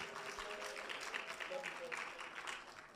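A church congregation at an annual convention service claps along during praise, a faint roomy patter of many hands with a loose rhythmic pulse and a soft murmur underneath.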